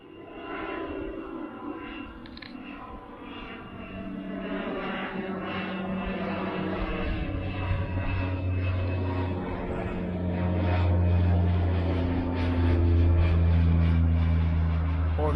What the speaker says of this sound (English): There's an aeroplane either coming in to land on the beach.